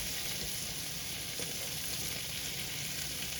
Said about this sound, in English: Now I'm going to throw my corn in.